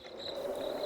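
Crickets chirp steadily at night near a Bengali village bamboo grove, a continuous high-pitched trill holding at an even, moderate level with no voices.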